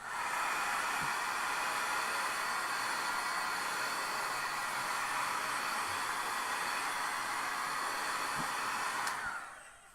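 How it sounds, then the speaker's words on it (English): Heat gun blowing steadily on glitter ink stamped on a card, a loud continuous broadband whoosh held for nearly ten seconds before cutting off at the end, with no talking. "So now we'll hit it with the heat gun one more time here"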